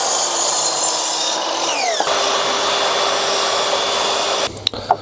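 Power tool cutting small pieces of wood for a garden fence, a loud, steady, close whirring saw drone with shifting pitch as it bites the wood, then a few knocks and clatters as it stops.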